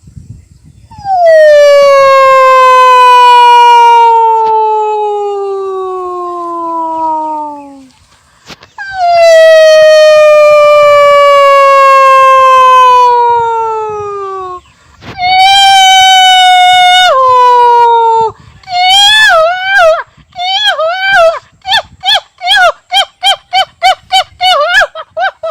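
A voice mimics a crow calling from a tree branch, starting with long, loud, drawn-out falling wails and finishing with a quick series of short, sharp calls, all close and unaccompanied.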